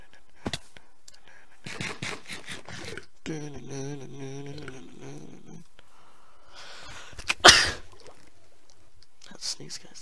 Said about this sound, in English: That sneeze, guys.